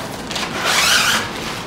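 Plastic packaging rustles and crinkles as a synthetic Outre lace front wig package is torn open, a single brief crinkling burst swelling and fading, close and moderately loud with no talk.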